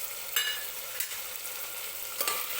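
Peanuts sautéing in hot oil for masale bhaat, a steady close sizzle with a few sharp stirring scrapes of a spoon against the pan, no talking.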